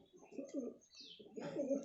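Soft, low pigeon cooing in two rounded phrases with a short pause between, close by and fairly quiet, with faint chirps above.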